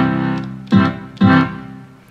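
A piano accordion's left-hand bass and chord buttons sound a sustained chord, followed by two short, punchy notes in a half-note, two-quarter-note rhythm, close and clear with no voices.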